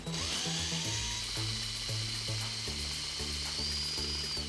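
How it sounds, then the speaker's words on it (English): Quiet, steady whirring of a power drill fitted with a stirrer mixing paint in a living room, with a faint rhythmic churning and clicking under the continuous motor hum. "You could totally just use a regular stir stick, but we're fancy over here, so we're using the drill."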